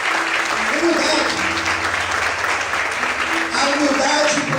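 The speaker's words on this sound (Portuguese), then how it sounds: "Será que você pode aplaudir ao Senhor?" A worshipping congregation applauds the Lord during a Portuguese sermon, a broad wash of many hands clapping together with voices calling out over it, sustained at an even, loud level.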